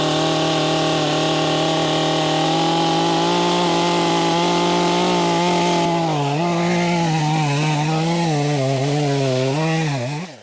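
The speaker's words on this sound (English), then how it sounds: "typically what I do is I use my little chainsaw to cut all the posts off where I want them" A small chainsaw cuts off wooden posts for a post-frame home, its engine droning loud and close throughout, the pitch dipping and wavering as the blade bites into the wood.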